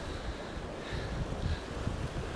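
Strong wind buffets the microphone on a fishing bank on the Dorset coast, a low, steady rumble with gusty swells, moderately quiet and with no voices.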